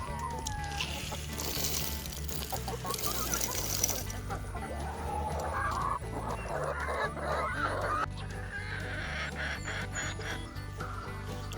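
Backyard chickens cluck and squawk softly near and at mid-distance in a rural yard, with a low steady hum underneath.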